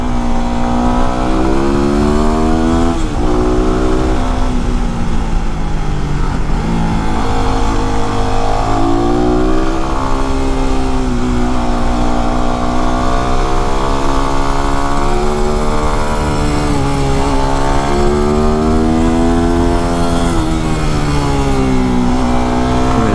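A WR motorcycle engine runs loud and close while being ridden, droning continuously as the revs rise and fall through gear changes, with no voices over it.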